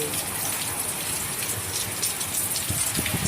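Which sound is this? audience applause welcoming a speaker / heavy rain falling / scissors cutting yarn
heavy rain falling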